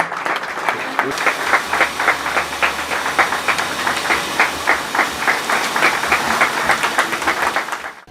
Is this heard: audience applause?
yes